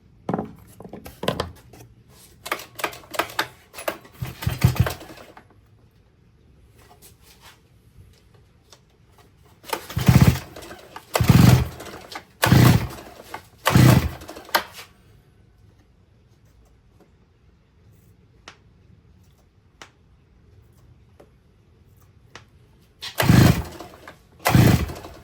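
A 52cc engine kit fitted to a scooter more than 25 years old is cranked over and over, giving short, loud, rasping bursts in three clusters separated by quiet pauses. The engine never catches and runs, and no one speaks.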